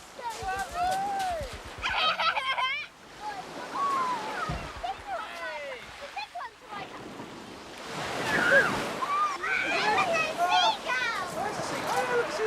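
Sea waves break on a shore with seagulls nearby, the surf swelling and washing in repeatedly while gull calls and people talking sit over it.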